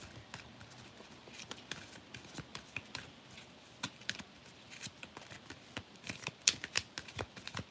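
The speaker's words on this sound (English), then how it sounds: "Trying to shuffle in front of you." Tarot cards are shuffled by hand in a quiet room, giving soft, irregular riffling clicks and slaps that come in quick bursts, close and faint throughout.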